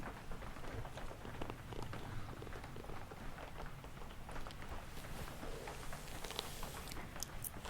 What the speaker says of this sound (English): The sound of the rain is really nice